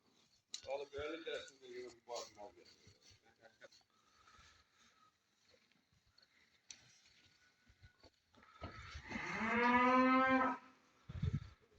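Calves and cattle at a livestock market moo twice nearby, a short low call early on and a long, loud drawn-out bellow near the end, separated by quiet rustling and clicks.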